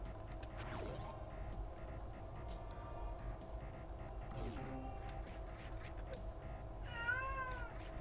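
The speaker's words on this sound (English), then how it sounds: "I don't know if you can hear it, the cat meowing." A cat meows in a drawn-out, wavering cry near the end, over a steady hum of room and game noise, with a few fainter sweeping tones earlier.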